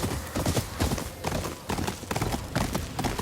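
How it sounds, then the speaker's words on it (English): Horse hooves pound in a quick, rhythmic gallop while riding in the Ghost of Yōtei video game, loud and close, with steady clip-clop beats filling the whole stretch. "I love the sounds to when you are riding your horse."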